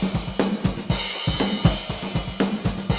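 Raw, unprocessed samples from the Ugritone Punky Default drum kit: a tight, punchy punk groove of kick, snare and cymbal hits in a fast steady rhythm, close and loud with no voices.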